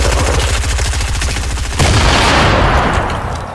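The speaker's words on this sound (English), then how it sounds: "I'm just gonna throw nades." Fortnite battle sounds: rapid, loud, evenly pulsed gunfire rattles for about two seconds, then gives way to a heavier blast as a grenade goes off and its rumble fades.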